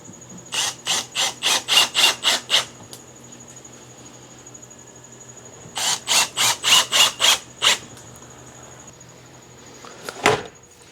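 Screws being driven into the particle board of an Ikea Alex drawer unit, heard as two close, loud bursts of quick, evenly spaced ratcheting pulses separated by a quiet pause, with a final short clatter at the end.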